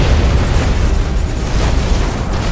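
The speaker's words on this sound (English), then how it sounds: "Bombing run underway." Bombing-run explosions in Battlefleet Gothic Armada 2 form a loud, continuous rumbling roar of overlapping blasts, dense and booming throughout with no pause.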